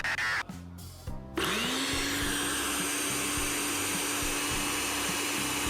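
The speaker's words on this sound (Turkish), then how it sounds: "Kapat lan şu blenderi." A blender kicks on after a few short bursts and then runs continuously with a steady, close whine and rising pitch, loud and without talk.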